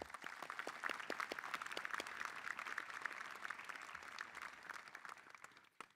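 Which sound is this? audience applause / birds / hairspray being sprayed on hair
audience applause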